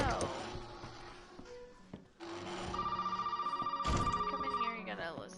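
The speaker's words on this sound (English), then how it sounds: "You gotta listen to another phone call, which sucks." Telephone ringing in the Resident Evil Biohazard video game, a steady repeating electronic ring pulsing loudly in game audio after a brief quieter stretch, with speech around it.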